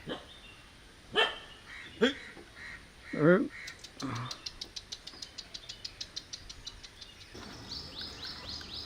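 Dogs bark in a residential lane in Mannagudde, Mangaluru: a few loud, separate barks near the start, then a quick run of light ticking sounds.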